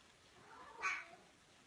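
A house cat gives a single drawn-out meow near the middle, faint and somewhat distant in an otherwise quiet kitchen, with no talk over it.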